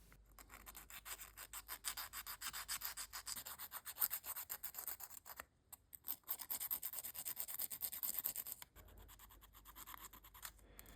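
Sandpaper rubs back and forth over a small wooden propeller made from ice cream sticks, quiet, close scratchy strokes in quick rhythmic bursts with two short pauses.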